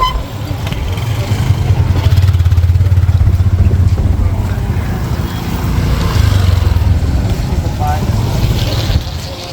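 A motorcycle engine drones past on a rainy street in Hoi An, a steady low rumble that swells and eases against busy outdoor noise, with voices nearby.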